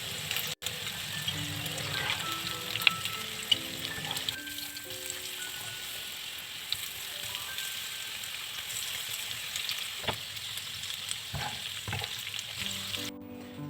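Floured Albanian-style liver frying in a pan, a steady close crackling sizzle running throughout with a few louder pops and clatters now and then.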